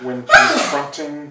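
A single sharp sneeze bursts out among people chatting in a tabletop roleplaying game session, with voices just before and after it.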